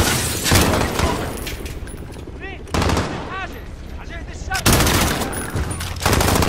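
An MG-34 machine gun fires in the Call of Duty Modern Warfare video game in loud, rapid bursts separated by short pauses, with sharp ricochet-like whines between volleys.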